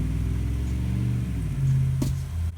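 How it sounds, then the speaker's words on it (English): Heavy trucks rolling past outside, a steady low engine rumble with shifting tones that swells partway through, loud and continuous with no talking. "I keep having to listen to all these trucks"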